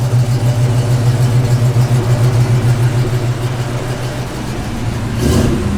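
1972 Ford Mustang Mach 1 engine revving close up, a loud, throaty rumble holding steady, dipping slightly, then swelling with a rise in revs near the end.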